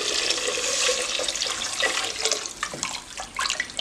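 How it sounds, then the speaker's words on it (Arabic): Water is poured into a cooking pot for a soup, about a liter and a half, a splashing, gurgling stream that is fuller at first and then breaks into smaller splashes and drips, close by and with no talking. "عندي هنا ريتلا ونص تاع الماء راح نمرق بها"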